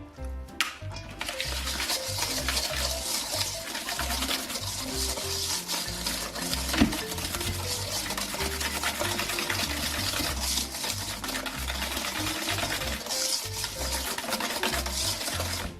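Eggs being whisked in a bowl for a gluten-free Amish baked oatmeal, a steady continuous scraping and swishing that runs unbroken and fairly loud throughout, with no talking.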